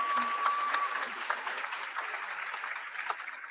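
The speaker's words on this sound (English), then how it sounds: "let's give them a round of applause" A dense, even wash of clapping from a large audience at a Charter Day convocation holds steady throughout, with no talk over it.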